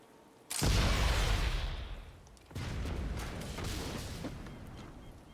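A loud explosion in the video game Sniper Elite 5 bursts in suddenly and rumbles away over a couple of seconds, followed by a second heavy blast that settles into a sustained roar.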